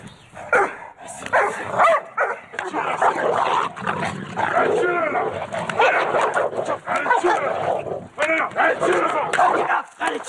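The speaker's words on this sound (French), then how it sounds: "Pour le moment, chacun de son côté excite sa chienne." Pit bull dogs, riled up before a fight, bark, yip and whimper in frequent loud bursts while people shout and urge them on nearby.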